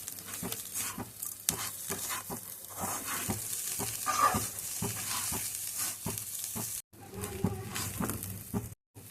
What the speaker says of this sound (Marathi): याला छान मिक्स करायचं छान दोन मिनटं परतून घ्यायचं